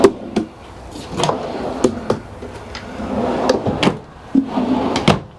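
Drawers in a 2019 Northwood Arctic Fox Classic 25R travel trailer slide open and shut, giving a series of close wooden knocks and thumps in irregular rhythm with short rolling glides between them.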